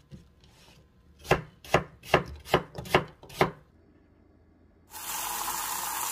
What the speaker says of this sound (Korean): 사과 껍질에가 영양분이 많으니까 껍질하고 함께 썰어서 넣어줄게요